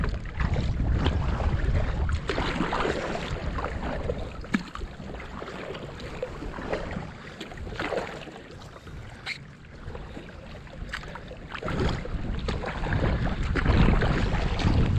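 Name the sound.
kayak paddling downstream on the Susquehanna River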